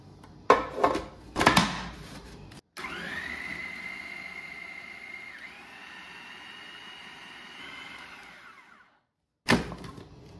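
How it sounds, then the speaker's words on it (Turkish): Food processor chopping onion, garlic, green peppers and red peppers: short loud pulses, then a steady whirring run of several seconds that winds down, followed by silence and one more brief burst. "Şimdi rondodan çekeceğim."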